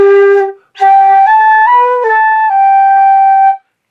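A flute tone played with air speed too slow, a series of clear sustained notes with steady pitches, one short gap near the start, loud and close with no talk.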